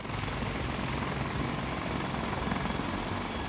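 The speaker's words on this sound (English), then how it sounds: "The CH-53 Kilo gives the MAGTF commanders the ability to deploy forces anywhere in the world." Sikorsky CH-53K King Stallion heavy-lift military helicopter in flight, a loud, continuous rotor and turbine roar with a steady thumping texture, filling the whole stretch with no voices.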